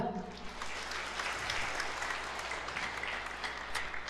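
Congregation applause at a church anniversary service, a steady wash of many hands clapping that fills the room, with a few voices mixed into the dense, even roar.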